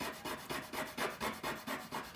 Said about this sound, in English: Keep rubbing and turning it as you do it, and then you get two clean ends.